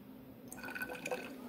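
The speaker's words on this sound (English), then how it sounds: "we will pour out some of that water into the test tube" Water is poured from a graduated cylinder into a glass test tube in a physics lab, a faint close trickle with small drips and glassy ringing that rises partway through, with no talking.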